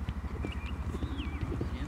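Horse hooves clop along at a steady walking rhythm, close and heavy, with a faint high whistling tone drifting above.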